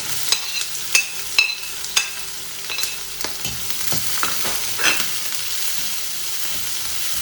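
Chopped onion frying with urad dal sizzles close and clear, with sharp spatula clicks against the pan in the first few seconds and a steady hiss continuing after them, and no voices.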